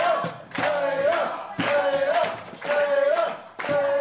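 A wrestling crowd shouts and chants at a live match, the loud massed voices rising and falling in repeated rhythmic bursts about once a second.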